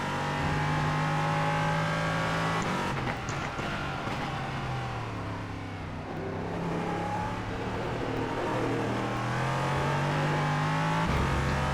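A Ligier prototype race car in the iRacing sim drives at speed, its engine revving up and down through gear changes in a loud, continuous whine that rises and falls as it works through the corners.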